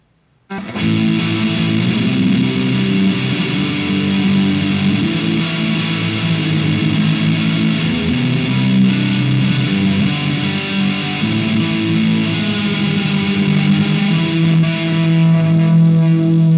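Heavily distorted guitar, in a shoegaze/noise rock setting, plays continuous chords with a roomy reverb whose decay has been shortened so it fades more quickly, leaving the notes a bit clearer; loud and alone.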